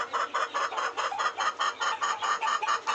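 Free-range village hens clucking in a quick, regular series of short bursts, close and fairly loud, with no talk, one hen sitting to lay eggs.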